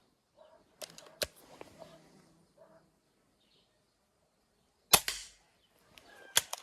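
A Hatsan mod. 25 spring-piston air pistol fires twice, with a sharp crack early on and another about four seconds later, each standing alone. Quieter clicks and handling noises fall between the shots.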